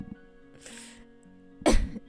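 A single harsh cough bursts out near the end after a quieter breathy sound, close to the microphone over a faint steady background hum.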